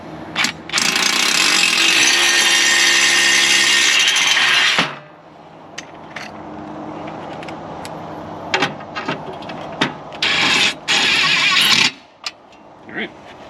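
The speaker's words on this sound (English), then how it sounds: "we'll go ahead and drill out one of the holes on the bottom." A power drill bores holes for an accordion shutter installation, a loud sustained whirring burst of about four seconds followed by shorter bursts and knocks, with quieter handling noise between.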